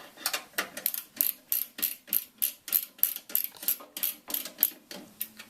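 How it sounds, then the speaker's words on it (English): A screwdriver loosely turns screws into a computer case, making a quick regular series of small clicking, ratchet-like ticks about twice a second, close and crisp, with no voices. "really loosely screw them in on the diagonals"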